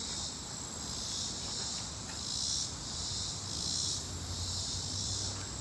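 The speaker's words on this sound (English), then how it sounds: "They're called cicadas or cicadas, depending on your preferred pronunciation." Cicadas buzz loudly and steadily at Dunbar Cave State Park, a dense shrill drone that swells and fades in slow pulses, close and continuous with no voices.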